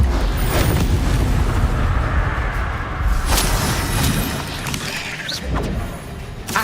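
Fire spell blasts in the video game Hogwarts Legacy, played on Switch 2: loud, sustained roaring bursts with booming crashes and crackling impacts, filling the whole clip with dense game action and no talk.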